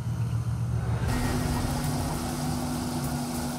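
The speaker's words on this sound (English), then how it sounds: "The new 24-foot vessel can float, but can it hold up at full throttle?" A new 24-foot swamp boat's engine roars steadily at full throttle, a loud continuous drone whose pitch steps up about a second in and then holds strong.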